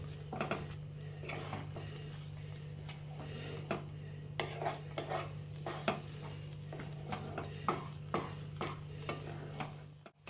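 A spoon steadily stirs and scrapes a semolina and sugar mixture in a pan while cooking Bengali lobongo lotika sweets. The scrapes are close and repeated irregularly over a constant low hum.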